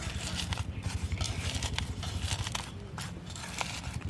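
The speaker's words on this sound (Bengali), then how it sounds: "লবণ দিয়ে সব মরিচটা গুলিয়ে নিচ্ছি। মরিচটা হাত দিয়ে ভালো করে এরকম পিষে নিচ্ছি।" Fresh chilies being crushed and mixed with salt by hand for a Cox's Bazar hotel-style bhorta, producing close, continuous wet squelching and crackling crunches in a quick irregular rhythm.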